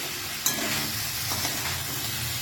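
Fried brinjal and bori are stirred into young drumsticks in a hot pan, giving a steady, close sizzle with soft scraping stirs and a brief clink near the start.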